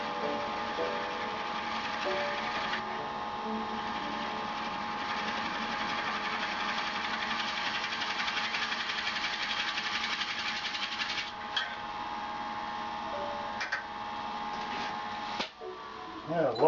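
A wood lathe turning at 340 RPM hums steadily with a constant mechanical whir throughout, close and moderately loud, with a few brief knocks near the end as a voice speaks over it.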